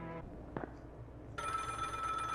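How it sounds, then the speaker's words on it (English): A telephone rings in the horror game Strike from the Skies. After a brief faint tone and a click, a bright electronic ring starts abruptly and continues steadily. "I got a phone call."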